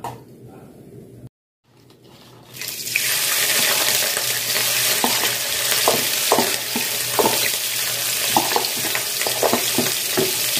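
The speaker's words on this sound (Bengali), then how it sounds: "তেলটা গরম হয়ে গেছে, আমি এর মধ্যে এবার চিংড়ি মাছগুলো দিয়ে দেবো" Shrimp, coated in spice powder, dropped into hot oil and frying: after a short quiet stretch and a brief gap, a loud, steady sizzle rises and continues close by, with intermittent clicks and crackles of stirring.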